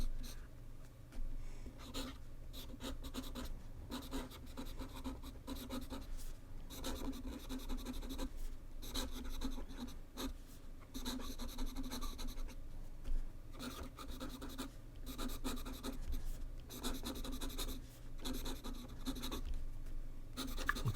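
A Sailor King of Pens fountain pen with a soft, wet semi-flex nib scratches across paper in close, quiet strokes, irregular bursts of scratchy writing noise separated by brief pauses.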